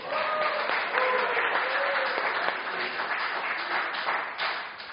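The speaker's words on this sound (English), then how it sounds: "A big round of applause for my wife, guys." Audience applause for a bride at a wedding celebration, a dense sustained round of clapping from a crowd that holds steady then tapers slightly, with some voices mixed in.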